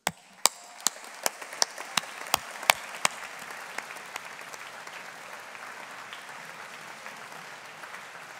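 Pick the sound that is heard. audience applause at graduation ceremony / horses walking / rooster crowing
audience applause at graduation ceremony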